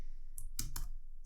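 A few quick clicks of keys on a computer keyboard while a password is typed, two or three close, crisp taps in a quiet room.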